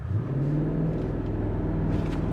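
Mercedes-AMG GLE 63 S (2024) V8 SUV launching in race mode on level road, a loud, steady engine roar that builds continuously through the run without any talk.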